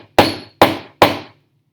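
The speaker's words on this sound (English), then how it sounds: "So we'll hit that with the hammer." A hammer strikes a solid chemical substance sample on a lab bench three times in quick, even succession, each a sharp, loud, ringing knock that decays fast before the next.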